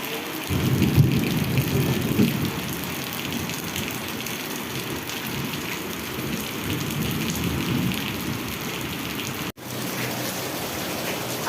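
Heavy rain pours down in a steady, dense roar that holds at an even level throughout, with a brief cut near the end and no voices.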